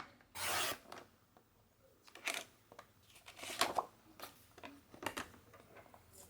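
A paper trimmer slices patterned craft paper in several short, soft swishes and scrapes, close and quiet, with faint rubbing and handling noises in between.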